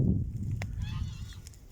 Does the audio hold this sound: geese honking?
yes